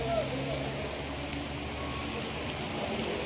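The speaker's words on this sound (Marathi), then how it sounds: "तुफान पाऊस पडतात, तुफान." Heavy monsoon rain pours steadily at a bus depot garage in Devgad in the Konkan, a dense and unbroken hiss of drops drumming on surfaces close by.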